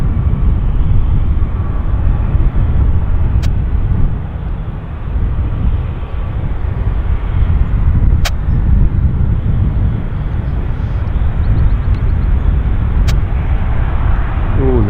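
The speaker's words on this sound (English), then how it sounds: "This is a Westjet 737 inbound from Toronto." A WestJet Boeing 737 from Toronto arriving at Vancouver airport, a continuous loud, rumbling jet roar sustained throughout with a few sharp clicks.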